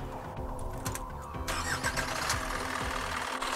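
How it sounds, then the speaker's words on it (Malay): An Isuzu 4HL1 truck diesel engine cranks briefly, then catches and settles into a close, steady knocking idle with a rough mechanical rumble. "Sekarang kita dalam keadaan enjin 4HL1 ni tengah start."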